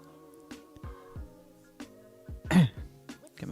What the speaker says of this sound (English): Get my coughs out of the way first.